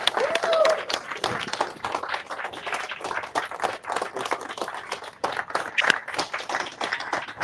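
A conference audience applauds after a speech at a news conference on genital integrity, with dense, steady clapping that fills the room for several seconds while a voice speaks faintly over it.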